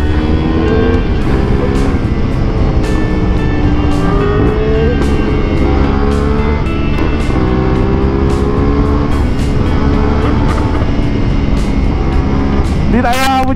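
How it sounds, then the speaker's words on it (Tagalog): A BMW S1000R 1000cc motorcycle accelerates hard and loud with a sharp backfire crack near the end, heard close under constant road and wind noise. "Grabe naman yung backfire nun."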